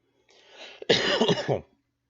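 A short throaty cough, a quick hack followed by a burst of rough coughing, close and fairly loud, then quiet.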